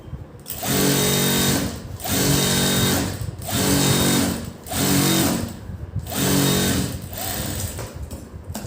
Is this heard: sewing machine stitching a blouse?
yes